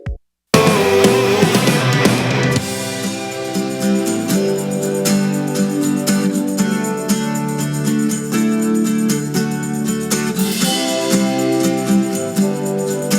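A song breakdown drops into a washy acoustic section with an organ-like sampled layer, full and steady after a brief silent start, with no voices over it.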